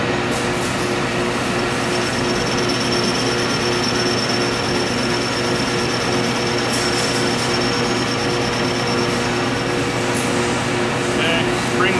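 A metal lathe in a machine shop takes a spring cut, a steady droning machine hum with a constant tonal whine that runs unbroken throughout.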